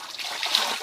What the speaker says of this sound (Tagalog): Ganito kadali dito maghanlaw. Lulublob mo lang sa tubig.